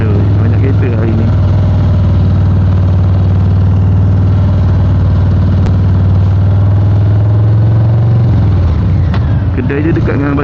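Harley-Davidson Low Rider ST motorcycle engine drones loud and steady while riding, a deep low throb that shifts pitch near the end, with a voice talking over it.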